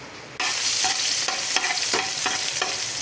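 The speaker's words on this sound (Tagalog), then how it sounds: "gisahin na natin tong bawang, sibuyas at" Garlic, onion and ginger sautéing in a hot pan, a loud sizzle that jumps in suddenly and keeps hissing, broken by several scrapes and stirs of a utensil.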